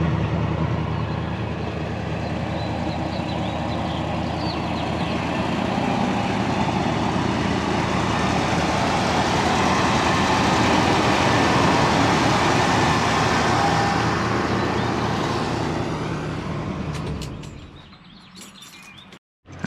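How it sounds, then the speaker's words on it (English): A 1977 Ford LTD Landau engine idles through a single exhaust with a steady, low, even rumble, then cuts off near the end, leaving brief clicks and quiet. "Just a single exhaust, but sounds pretty good."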